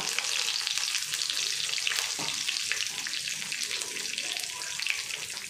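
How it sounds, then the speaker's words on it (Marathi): Cumin and mustard seeds frying in hot oil, a dense, steady crackle and sizzle that holds evenly throughout, close up and fairly loud. "चांगली तडतडू द्यायची आहे"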